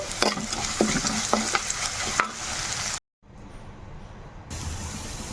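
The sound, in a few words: frying rasam powder with browned onions in a pan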